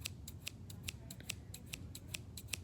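Scissors being handled during a sink-or-float activity give off a steady series of crisp, bright snips and clicks, roughly a dozen evenly spaced, close and alone over a low background hum.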